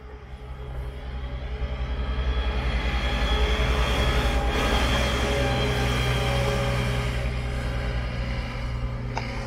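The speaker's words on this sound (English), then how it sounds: "that pesky tram cleaning away snow" A tram clearing snow on a winter mountain line near Sapporo, Japan: a steady, loud rumble of rail wheels and motor with continuous grinding and scraping, building in the first seconds and holding close throughout with no voices.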